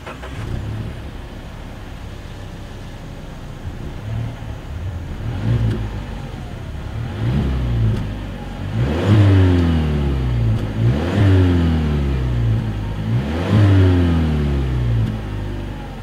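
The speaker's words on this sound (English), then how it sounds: "As always, here is that exhaust clip." A 2020 Mazda 6 with dual exhaust outlets and chrome tips revs repeatedly from idle, each loud rising-and-falling swell of engine note coming about every two seconds after a quieter idling start, heard close and alone.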